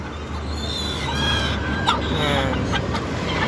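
A small bantam hen clucking close by, with rapid soft chattering clucks running continuously over a noisy outdoor background.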